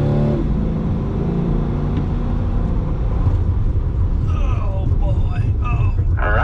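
A C8 Corvette accelerates hard on a Ron Fellows Performance Driving School course, a loud, sustained engine roar rising steadily in pitch with tire noise late in the run, close and continuous.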